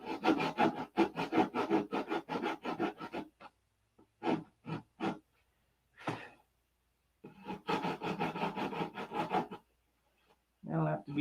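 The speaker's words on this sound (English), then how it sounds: "That'll have to be detail sanded." Hand sanding on a P-47 Razorback model, bursts of quick rhythmic scratchy rubbing strokes separated by pauses and a few short isolated scrapes, close and fairly soft.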